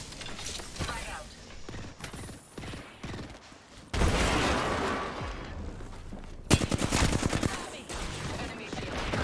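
Apex Legends gunfire: rapid bursts of automatic shots crackle loud and close, one sustained stretch of fire followed by a tight rattling volley, with game effects mixed in.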